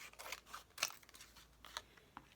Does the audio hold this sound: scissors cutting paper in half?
yes